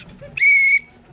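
A single shrill, steady whistle blast on a boat lasting under half a second, loud and close, with faint background murmur around it.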